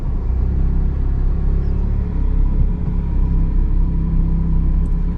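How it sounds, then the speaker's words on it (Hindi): An automatic Maruti Swift VXI reverses slowly, giving a steady, loud low engine rumble and drone heard from inside the car, with no revving and no talk. "देखिएगा इस कार रिवर्स होगी।"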